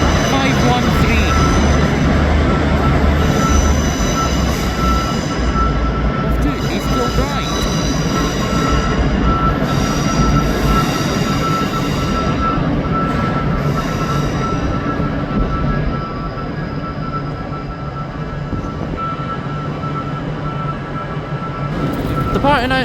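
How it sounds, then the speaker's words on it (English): A ScotRail train departs Glasgow Central station with a loud, steady diesel engine rumble that holds throughout and eases slightly toward the end, amid station ambience. "Departing out now is the 1320 ScotRail service from starting here at Glasgow Central to Lanark"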